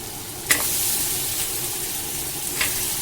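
Brinjal and drumstick pieces sauté with sambar powder in a hot pan for Tamil sambar. There is a steady, close sizzle with a couple of sharp stirring scrapes.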